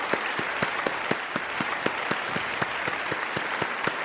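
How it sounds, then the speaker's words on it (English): Conference audience at an international children's health and sustainability event applauding NGOs, a sustained, steady wash of many hands clapping from a sizeable crowd, with no talk over it. "let's give our warmest applause for these absolutely beautiful NGOs who are helping to save the world"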